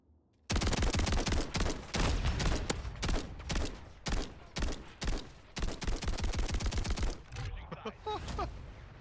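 Gunfire in Call of Duty Modern Warfare 3 Cutthroat mode comes in loud, rapid automatic bursts with short gaps between them, followed by scattered shots and a brief voice near the end.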